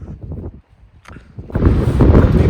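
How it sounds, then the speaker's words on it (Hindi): Strong wind buffets the microphone on a mountain road trip from Manali toward Ladakh, starting as intermittent rumbles and then building into a loud, continuous roar. "क्योंकि हवा चल रही है बहुत तेज,"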